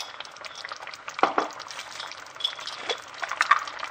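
Mushrooms sautéing in a pan with a teaspoon of cumin just added, a soft steady sizzle broken by a few louder scrapes and stirs, close and quiet with no talking.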